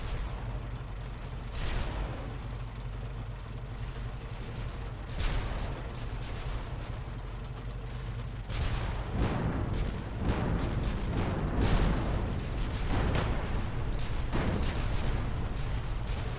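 A remote-controlled tank in the video game Executive Assault 2 fires repeated heavy cannon shots, booming bursts spread across a continuous rumbling battle din, with no voices.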